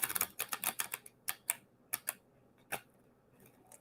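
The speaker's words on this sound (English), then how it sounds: "So I'm gonna shuffle this deck." A deck of tarot cards being shuffled during an intuitive reading: a quick run of crisp, papery riffling clicks and soft flaps, loud at first and then thinning to scattered taps, close and with no talking.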